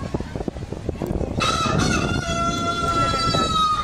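A rooster crows once at a highland resort in Talisay, Negros Occidental, a long drawn-out call rising over background rumble and wind, fairly close and loud.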